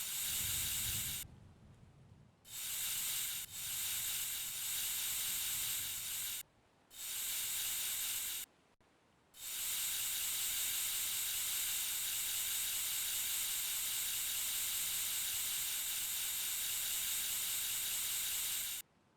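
Hand-pump-style air pump hissing loudly and steadily as it fills, in several bursts with short pauses between them, then one long continuous hiss.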